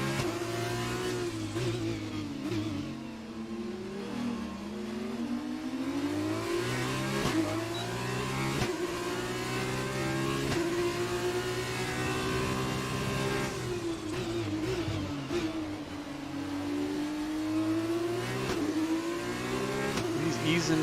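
A Super Formula race car engine in a video game league race at Singapore screams loudly and continuously for about twenty seconds, its pitch rising and falling smoothly as the throttle is eased on and off through corners.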